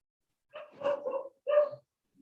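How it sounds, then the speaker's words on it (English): A dog gives two or three close, fairly quiet barks in a short burst, the last one trailing off into a soft yip, with no talk over them. "The dog is still with us."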